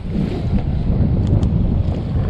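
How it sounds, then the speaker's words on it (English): Steady wind roars across a lake around a fishing boat during crappie fishing, a continuous loud gusting rush buffeting the microphone with no talk. "That wind whipping."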